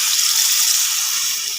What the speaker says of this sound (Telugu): మా ఇంట్లలో తొందరగా కొంచెం వాటర్ పోస్తా